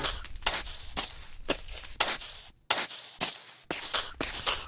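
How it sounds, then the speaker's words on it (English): A chemical sprayer from the Create addon in Minecraft spouts fire in repeated bursts of loud hissing spray. The bursts come in uneven rhythm with brief gaps between them, and no one speaks. "So if we are lucky, this thing spouts fire."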